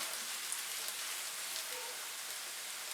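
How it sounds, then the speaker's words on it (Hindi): Chopped carrots and onions fry in a pan, giving a continuous, even sizzle with a soft crackle throughout, close and unbroken. "इसको भी 2 मिनट के लिए फ्राई करेंगे।"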